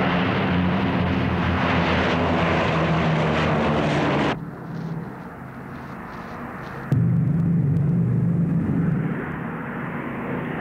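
A propeller airplane flies in a war-movie scene, its engine drone loud and steady, dipping suddenly to a quieter interior tone before surging back loud again.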